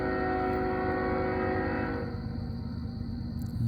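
An approaching northbound CN freight train led by locomotive 3971 at Ladysmith, Wisconsin, gives a loud, steady rumble with a sustained horn-like tonal blast that cuts off partway, leaving the low engine drone.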